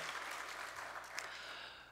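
A church congregation applauds steadily during a Sunday worship service, a dense even clapping that continues throughout.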